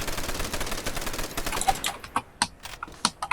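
An MG42 machine gun fires in Call of Duty: World at War zombies mode, first a dense continuous rattle of rapid shots, then separate sharp bursts toward the end, loud and close.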